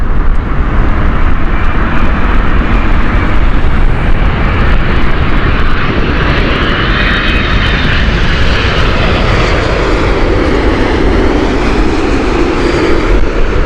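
A loud airliner in Mahatma Gandhi livery at Heathrow Airport, its engines roaring continuously and close with a dense broadband rumble that sweeps slightly in pitch as it passes.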